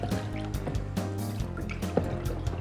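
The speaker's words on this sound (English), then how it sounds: "we're going to stir the mixture round and round in circles" Paper pulp mixture stirred round and round in circles in a container, a continuous close churning of liquid with gurgles and small drips over a low background hum, with no voices.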